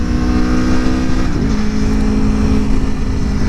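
Aprilia Tuono 2021 motorcycle engine, loud and close, revving up on the throttle with a rising pitch partway through, then holding a steady throaty drone.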